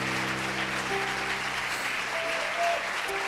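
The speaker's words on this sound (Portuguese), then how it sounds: "Dá uma salva de palmas então aí" Congregation applauding in church, a steady wash of clapping that holds level throughout with a faint sustained tone underneath.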